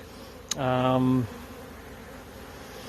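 A honey bee buzzes close by at a Michigan hive during brood frame removal: one brief, steady buzz lasting about a second, then quiet background.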